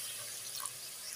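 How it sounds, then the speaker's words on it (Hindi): Water poured into a pan while cooking Singaporean-style rice, a brief soft splashing trickle with a faint drip-like accent near the middle, quiet and alone. "तो ये पानी शामिल कर रही हूँ इसमें"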